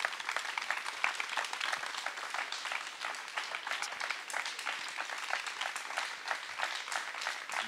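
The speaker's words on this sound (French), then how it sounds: "Vous pouvez l'applaudir." An audience applauds at a talk about street photography, steady dense clapping from many hands filling the room at moderate volume without pause.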